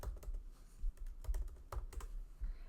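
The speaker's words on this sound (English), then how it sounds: "I'm just going to type in both of my daughters' names." Rapid typing on a computer keyboard while entering names for a Cricut craft project, a steady run of close, crisp key clicks with brief pauses and no talking.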